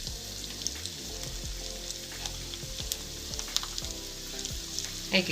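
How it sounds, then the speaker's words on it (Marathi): Sabudana potato chakli frying in hot oil, a steady close sizzle with small bubbling pops and occasional sharper crackles, no talk. "आम्ही तेलात टाकली चकली आता कशी छान फुलते"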